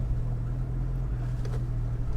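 A 1966 Jaguar XKE Series I 2+2 coupe's straight-six engine with a stock exhaust drones steadily and mellowly from inside the moving car, a continuous low rumble with no talking.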